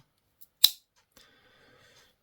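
The small scissors of a Victorinox pocket knife give a single crisp snip, followed by a faint click and a soft metallic ringing that fades out.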